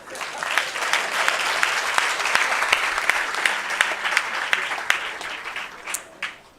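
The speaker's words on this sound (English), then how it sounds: "you're going to clap your hands when we welcome Boetie Masafella" Audience applause welcoming a Deputy Minister at a pilot project event, a steady wash of many hands clapping that holds for several seconds before thinning out at the end.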